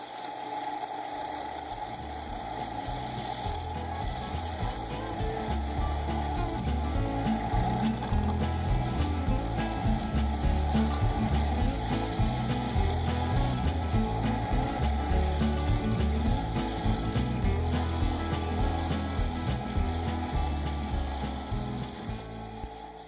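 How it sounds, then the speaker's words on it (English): Black cherry bowl on a wood lathe, a bowl scraper shear cutting the underside of the undercut rim: a steady, continuous whirring rasp with chattering texture, constant and fairly loud throughout with no talking. "I'm using the bowl scraper in a shear cutting orientation to smooth out the underside of the undercut rim"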